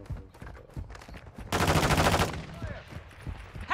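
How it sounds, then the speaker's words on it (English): Enemy gunfire in Call of Duty: Modern Warfare II, a short, dense rapid burst of shots lasting under a second amid quieter game sounds and faint voices. "I'm taking enemy fire!"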